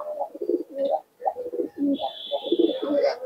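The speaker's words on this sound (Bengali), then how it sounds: "দেখুন ডাকটা দেখুন কবুতরটা" A Giribaz pigeon coos up close in repeated throaty bursts with short gaps, while a thin high tone rings behind the later calls.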